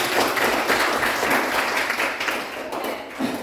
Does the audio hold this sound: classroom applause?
yes